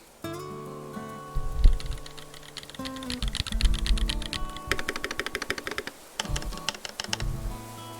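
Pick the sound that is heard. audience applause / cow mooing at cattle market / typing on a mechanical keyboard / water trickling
typing on a mechanical keyboard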